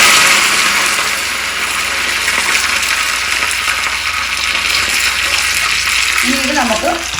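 Curry leaves sizzling in hot oil for tempering, with dried red chillies already in the pan and the stove off, giving a loud, dense, continuous hiss close up, with a brief popping crackle near the end.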